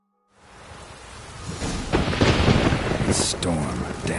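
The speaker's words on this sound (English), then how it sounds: "Storm, damn it." A thunderstorm in The Witcher 3: Wild Hunt video game rolls in from near silence: deep, swelling thunder rumbles over steady rain, loud and close, with a crackling burst near the end.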